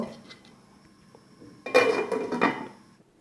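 A metal lid goes onto a cooking pot of boiling potatoes with a short clattering clank and rattle, preceded by quiet kitchen handling noises, close and fairly faint.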